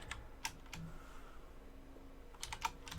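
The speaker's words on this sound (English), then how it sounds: "You could type in like so," Several quick keystrokes on a computer keyboard, in short bursts near the start and end with a soft steady hum between them.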